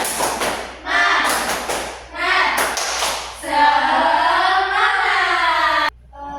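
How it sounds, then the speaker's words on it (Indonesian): A classroom of children performs a rhythmic group clap routine, bursts of hand claps and thumps mixed with voices chanting together in unison, loud and close, ending abruptly. "ayo kita tepuk semangat, tepuk semangat"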